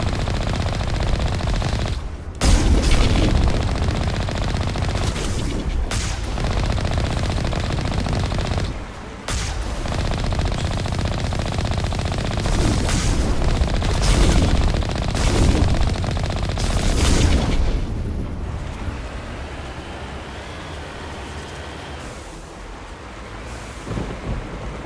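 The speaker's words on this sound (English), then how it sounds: "There's the artillery, Shepard." Artillery fire and explosions in the Mass Effect game: repeated heavy booms and bursts of rapid gunfire over a rumbling battle background, loud and close, no talk.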